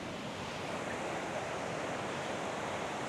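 Steady sea wind and breaking waves roar at the shore in a continuous broadband wash with no distinct breaks, heard outdoors with no talk.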